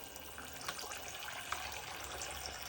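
Water runs in a toy play sink while dishes are washed, a faint, steady trickle that carries on through the whole short stretch with no voices.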